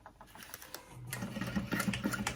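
A sewing machine stitches down a bag seam, its motor running from the start and then settling into a steady, close, rapid needle rhythm that grows louder in the second half, with no voices.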